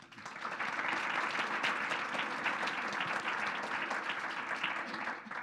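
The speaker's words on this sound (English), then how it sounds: "one last round of applause for our speakers" Audience at a public program on the future of Milwaukee transit applauds its speakers, a steady, even wash of clapping that rises quickly and fades slightly at the end, heard from some distance.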